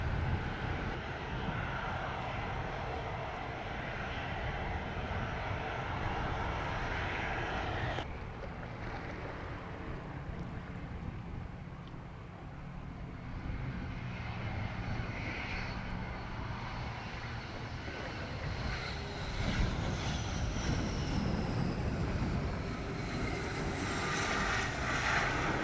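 Airplane engines at Montego Bay airport in Jamaica, a steady broad roar that holds for the whole span and swells slightly near the end, heard alone with no talk.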